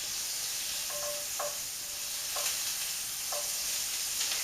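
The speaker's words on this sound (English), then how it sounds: "Now we're going to put 1 tablespoon of butter in the saucepan." A tablespoon of butter heating in a saucepan over medium heat gives a constant soft sizzle, with a few brief scraping clicks of a utensil against the pan and no voices.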